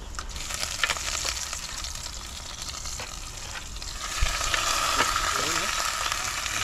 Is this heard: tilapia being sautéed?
yes